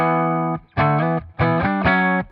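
A clean electric guitar tone with no distortion, played as four sustained chords or notes in a steady rhythm, each ringing clearly with rich harmonics before short pauses.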